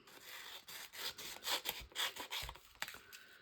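Paper decorations being cut out by hand, a run of soft rubbing, snipping strokes at close range, irregular and continuous, with no voices.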